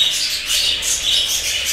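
Budgerigar chicks in a nest box give a continuous, close, raspy squawking chorus that swells and fades in short waves.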